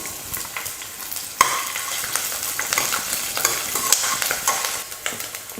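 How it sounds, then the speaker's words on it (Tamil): Shallots, garlic and ginger fry in hot oil with a dense, continuous sizzle, overlaid by repeated close scraping and stirring strokes of a spoon in the pan; no voices. "இது எல்லாம் சேர்த்து எண்ணெய் ஊற்றி நல்லா வதக்கி எடுத்துக்கலாம்"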